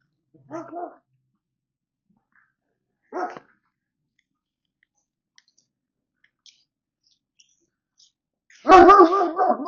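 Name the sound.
neighbor's dog Jack barking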